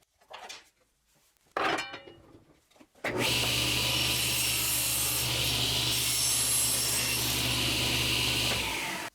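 A handsaw trims a protruding wooden piece on a jig flush, with a brief pair of scrapes followed by a long, loud, steady rasping cut running for several seconds, up close and with no talking.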